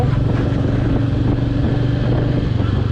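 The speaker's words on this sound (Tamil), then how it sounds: "இன்ஜின் சவுண்டே வேறு மாதிரி இருக்கு பாருங்க" Close, steady Royal Enfield Meteor 350 motorcycle engine idle with a low, throbbing rumble, continuous for a few seconds.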